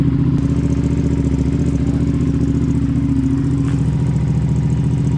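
A 2004 Suzuki SV650 motorcycle engine runs steadily at a low idle, a loud, even, throbbing rumble with a faint mechanical clatter and no voices.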